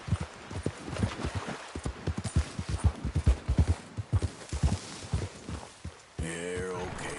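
A horse walking with steady clip-clopping hooves, close and fairly loud, ending in a brief whinny-like tonal sound.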